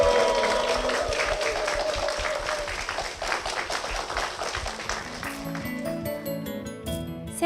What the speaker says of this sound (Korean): 앞으로도 정말 믿음의 삶을 사시라고 여러분 힘찬 축복의 박수 부탁드리겠습니다